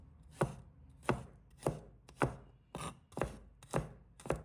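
Garlic cloves chopped into small pieces with a knife on a board, eight crisp, evenly spaced blade strikes ringing out close and clear with no voices.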